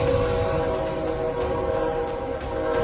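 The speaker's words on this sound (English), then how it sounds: "a train in Canyon, Texas slammed into a stuck semi-truck, the impact echoing for miles." A train in Canyon, Texas passes after hitting a stuck semi-truck, heard as a steady rumbling rail roar with a sustained horn-like tone running throughout, loud and continuous with no talk.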